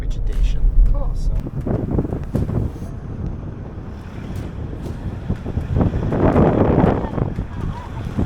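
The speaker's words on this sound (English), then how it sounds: "it's very windy here" Strong wind roars and buffets against the microphone in heavy, uneven gusts throughout on a barren, treeless landscape on Pag, Croatia, with a person talking partly under the rumble.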